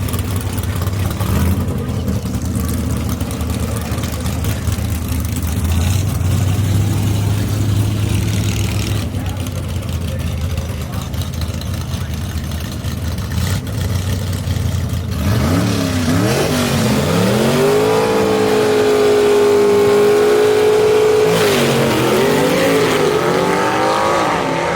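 Gasser drag race cars at Knoxville Dragway, loud engines idling and rumbling before a hard launch, then screaming revs sweeping upward as the cars pull away, strong and near, with faint voices underneath.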